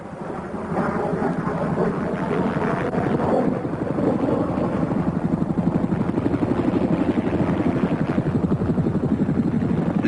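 A military assault helicopter flies close by with a loud, steady rotor chop and engine roar that holds for the whole stretch, with no voices over it.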